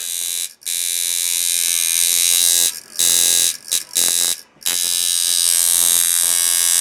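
A loud electric buzzing hum from a coil tattoo machine with loose screws runs almost continuously, cutting out briefly several times before resuming, close and harsh.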